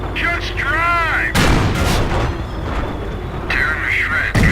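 Tank main cannon fires in the Company of Heroes World War II video game, two loud, sharp booms a few seconds apart amid battle noise, with radio-style unit voices in between.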